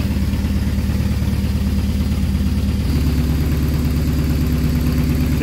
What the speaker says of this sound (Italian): La buona notizia è che il motore suona bene.